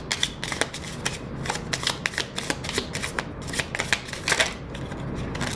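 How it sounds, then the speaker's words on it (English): A tarot deck is shuffled in quick, riffling bursts of card slaps and flutters, close and crisp, part of the deck spilling out, with a faint voice now and then. "half the deck fell out right now as I'm trying to"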